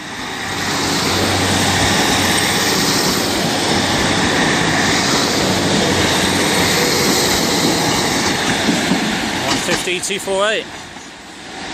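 A Great Western Railway train roars past at Exeter St David's station, a loud, sustained rumble that drops away near the end just as a short two-tone horn sounds; a voice speaks briefly.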